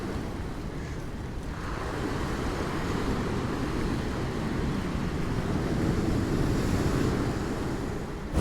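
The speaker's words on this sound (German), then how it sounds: "aber hier werden Wellen gebrochen, auf jeden Fall" Steady roar of surf washing against the rocks of a breakwater on the Italian coast, continuous and broadband with wind noise over the microphone, no voices.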